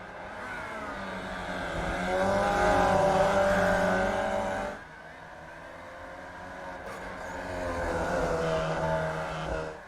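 Formula Vee race cars howl around the Long Beach street circuit, engines rising in pitch as they accelerate and swell loudly past, dropping away, then building again, under a commentator's voice.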